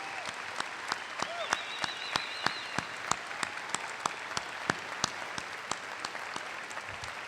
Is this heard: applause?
yes